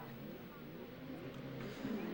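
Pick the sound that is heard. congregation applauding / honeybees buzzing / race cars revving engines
race cars revving engines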